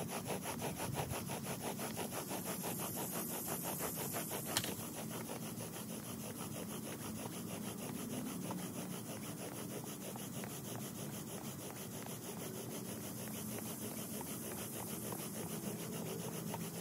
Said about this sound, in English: Let's cut a notch now.